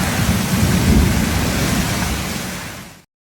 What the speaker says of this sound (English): Hailstones coming down. See, you can probably hear.